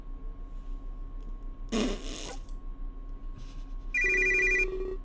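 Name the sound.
phone ringing in the video game Major/Minor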